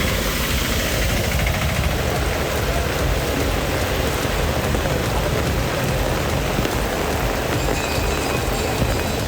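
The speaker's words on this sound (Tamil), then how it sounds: "பலத்த காற்றுடன் கனமழை வெளுத்து வாங்கியது" Heavy rain pours down steadily during a strong windstorm around Sivakasi, Tamil Nadu, a loud, dense, unbroken roar of rainfall across the whole stretch with no voices.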